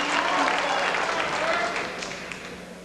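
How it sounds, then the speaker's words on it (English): Darts crowd at a 1989 World Cup of Darts match in Toronto cheering and applauding a score of 125, a broad roar and clapping that swells early then gradually fades as a commentator talks over it. "That brings the crowd to life here."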